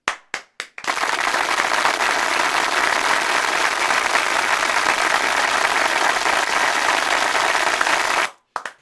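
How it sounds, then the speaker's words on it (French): A few sharp claps open, then sustained loud applause from a TV studio audience fills the air steadily before cutting off abruptly. "3, 2, 1, c'est parti pour 15 secondes d'ovation. Faites du bruit!"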